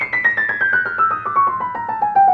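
Piano plays the top notes of a two-octave descending chromatic scale from a Liszt Liebestraum No. 3 cadenza, a quick, even run of single notes stepping steadily downward, clear and close with no talking.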